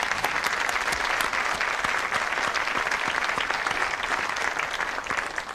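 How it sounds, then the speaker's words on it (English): A 1970s UK television studio audience gives a brisk, even round of applause lasting several seconds, dense clapping heard fairly close with no talk over it. "let's have a ripple of applause for the suspects"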